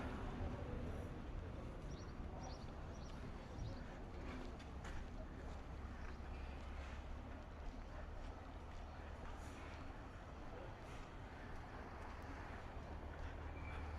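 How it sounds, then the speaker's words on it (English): Steady broadband rumble of boats passing on the water at Cabanas de Tavira in the Algarve, Portugal, with wind noise throughout and a faint voice in the distance. "Just hear the sounds of the boats going by."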